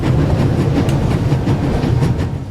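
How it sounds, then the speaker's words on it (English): A train rumbling past in The Raven adventure game, a loud continuous roar with faint rhythmic clatter of wheels, steady throughout and easing slightly at the end. "So the train noise isn't deafening"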